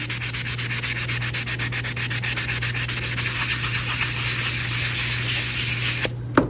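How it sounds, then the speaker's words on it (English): Rapid back-and-forth rubbing of a 220 sanding pad on hardened resin, a steady rhythmic scratching close up, over a low electrical hum, stopping near the end. "This is a 220 sanding pad."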